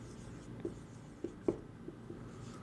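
Pen writing a figure on paper during an accounting lesson on depreciation, heard as quiet scratchy strokes with a few soft taps, close and alone with no talk.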